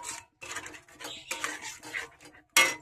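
Spoon stirring and scraping sour yogurt into a cooking pan for an egg curry, a series of close clinks and scrapes ending in a sharp, loud metallic knock.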